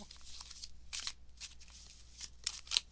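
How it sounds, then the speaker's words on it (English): Playing cards shuffled by hand in a tarot reading, giving soft riffling bursts and flutters that come and go over a few seconds, with a couple of sharper snaps near the end, fairly quiet and with no talking. "I feel much more comfortable shuffling now"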